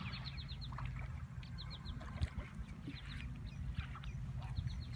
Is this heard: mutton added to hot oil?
no